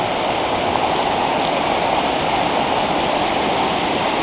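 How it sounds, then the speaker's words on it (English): A small waterfall at Libtong Ilong in Barangay Agtiwa, San Fernando, Romblon pours steadily, a dense, even rush of falling water heard up close with no break. "a minimal waterfall."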